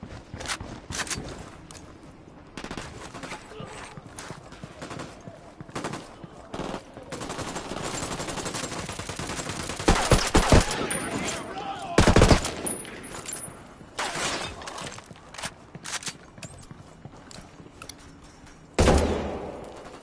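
Gunfire rattles through a shootout in Ghost Recon Wildlands, with bursts of automatic fire and scattered single shots for about twenty seconds, loudest in sharp cracks near the middle and end, plus faint shuffling movement between volleys.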